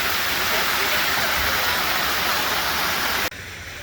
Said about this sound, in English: There's the famous pineapple fountain.